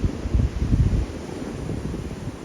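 Steady wind on a beach on Australia's east coast buffets the microphone with low rumbling gusts, stronger at first and then settling into a constant blustery roar.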